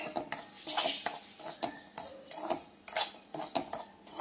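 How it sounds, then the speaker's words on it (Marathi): Semolina (rava) being dry roasted in a pan without oil, heard as repeated metal clinks and scrapes of a utensil against the pan in an uneven rhythm, close and moderately loud, with no talking. "बिना तेल टाकता आपण रवा आपण भाजून घेऊया छान खमंग"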